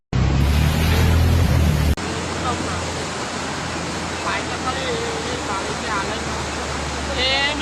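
Floodwater rushes through a river near a bridge in Vadodara, India, in a loud continuous roar, broadband and steady, with a brief jolt near the start and voices faintly audible underneath.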